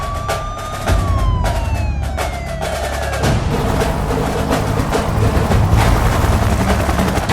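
Police car sirens wail loudly as officers close off a road, a falling tone giving way to a dense, continuous siren blare.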